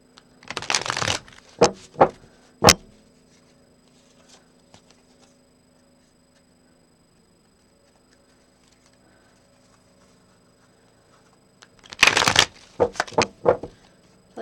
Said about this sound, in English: I'm going to pull some cards to see what's going on with that.